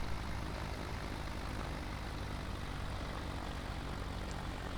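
Steady, continuous propeller engine drone of a Pantera light aircraft in X-Plane 11, spun without flaps, holding an even level throughout with no talk.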